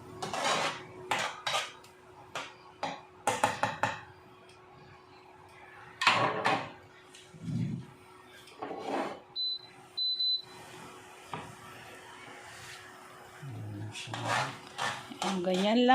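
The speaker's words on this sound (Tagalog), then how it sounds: "Ganyan lang siya, halu-haluin natin." Sisig tofu stirred in a pan, with scraping and clattering of a metal utensil against cookware in irregular bursts, plus a few dish and drawer knocks and a short beep in a home kitchen.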